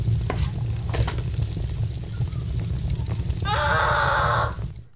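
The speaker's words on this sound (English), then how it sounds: "It's on fire!" A fire burns in the Brick Rigs video game with a crackling, frying sizzle. A brighter, buzzing burst comes near the end before it fades out.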